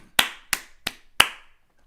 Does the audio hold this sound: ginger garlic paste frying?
no